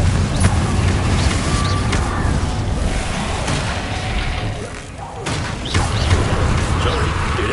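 A Confringo spell blast in the Hogwarts Legacy video game, loud continuous rumbling booms and crashing thuds with a brief dip midway before the roar surges again.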